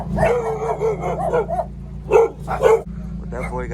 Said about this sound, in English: As the dogs go crazy.